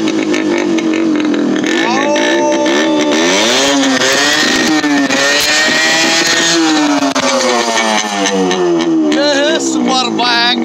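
A motorcycle engine roars close and loud, its pitch climbing and falling through long sweeping revs without a break from start to finish.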